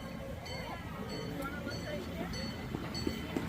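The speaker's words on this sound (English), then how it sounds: "that train just went around pretty quick" A sightseeing train runs past at an exotic animal park, making a steady, continuous rumble with faint metallic squeals and clicks, heard from a moderate distance under low background voices.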